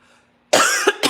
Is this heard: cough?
yes